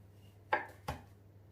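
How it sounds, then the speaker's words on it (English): Two crisp cuts as a knife slices through a thick aloe vera leaf on a board, spaced about a third of a second apart, close and fairly quiet, with nothing else around them. "So this is the aloe vera leaf. So what we're going to do, just gently cut that with a knife."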